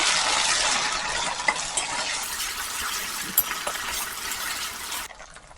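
Onions and ginger-garlic paste fry in a pan, giving a steady bright sizzle with occasional pops and spoon stirs, close and continuous until it quiets near the end.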